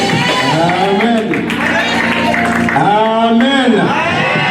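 Young worshippers in a church service loudly cheer and shout acclamations together, a dense sustained roar of voices with whoops rising and falling throughout.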